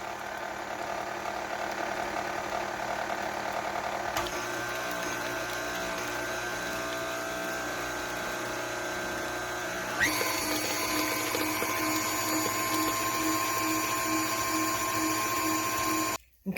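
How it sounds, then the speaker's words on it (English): Electric mixer whirring steadily through banana oatmeal cake batter with mashed bananas, a constant mechanical drone that shifts in pitch twice as the speed changes, then cuts off abruptly at the end. "it's time to go ahead and get this mixed thoroughly"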